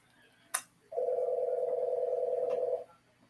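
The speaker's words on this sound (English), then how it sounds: "And the phone rings." A phone rings once in a quiet home kitchen, a single steady electronic tone lasting about two seconds after a brief click, fairly close and alone without talk.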